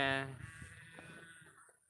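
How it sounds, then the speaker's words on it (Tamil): A cow gives one short, loud moo right at the start, then fades into quieter outdoor background with faint murmuring. "மாடு கத்துற சத்தம் கேக்குதா"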